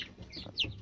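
Month-old black chickens of Marans, Legbar, Uheilyu and village breeds in a coop let out a brief burst of soft clucks and chirps, fairly faint and close, with no talking.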